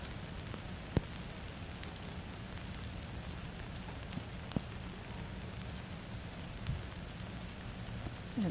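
Steady rain patters across a wide dressage arena at a horse show, a dense soft hiss with a few sharper drops standing out now and then.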